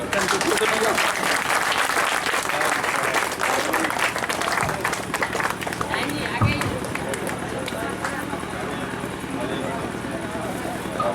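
Audience at a Sahara India meeting in Bisfi clapping, a dense burst of applause under a speaker's voice that eases off partway through, with talk continuing over a murmuring room.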